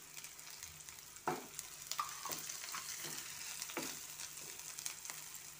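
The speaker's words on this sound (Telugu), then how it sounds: "అల్లం వెల్లుల్లి పేస్ట్ పచ్చివాసన పోయేంతవరకు వేపుకుందాం." Onion, ginger garlic paste and green chilli fry in a pan with a soft, continuous sizzle, broken by a few scraping stirs, close and fairly quiet with no talking.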